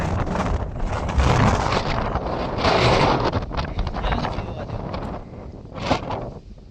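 Strong wind near the Gopnath Mahadev temple buffets the microphone in loud, rumbling gusts that rise and fall, roaring close and unsteady throughout.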